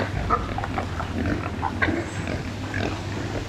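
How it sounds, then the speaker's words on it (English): Pigs grunt and snuffle close by in a busy, irregular stream of short snorts over a low background hum. "Second batch of pigs with our new company, and bloody hell, they're inquisitive lot."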